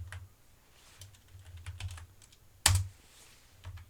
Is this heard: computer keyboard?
yes